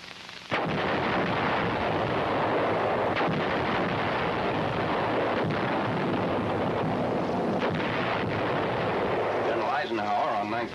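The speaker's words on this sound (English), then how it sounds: "Battery C, 243rd Field Artillery Battalion, brings forward an 8-inch gun to fire point blank at the massive wall surrounding the fortress where Nazi paratroop General Hermann Bernhar" An 8-inch field artillery gun of a US battery fires point blank at a massive fortress wall at Brest during the Second World War, a dense, loud continuous roar of heavy fire and blasts under a narrator's voice.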